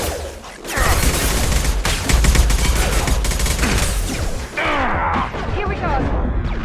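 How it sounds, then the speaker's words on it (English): Mass Effect 2 combat with dense rapid gunfire bursts and impacts, loud and continuous, with game voices speaking amid the shooting. "Shoot them before they take out the shields."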